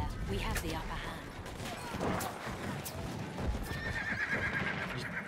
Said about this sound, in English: So many horses everywhere.